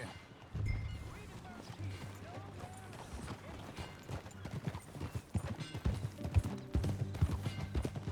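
Steady clip-clop of horse hooves trotting at a moderate pace in the video game Red Dead Redemption 2, fairly close, with faint mechanical creaks and a low hum beneath.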